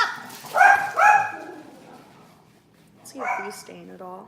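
A pet dog yips and barks a couple of times indoors, then whimpers more faintly, with a person talking in between.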